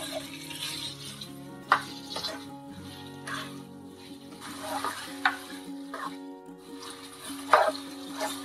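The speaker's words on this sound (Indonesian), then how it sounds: "Kita akan tumis sebentar daging ini sampai berubah warna." Beef is stir-fried in a seasoning paste in a pan: a soft, steady sizzle with scraping clinks from stirring, fairly quiet and close.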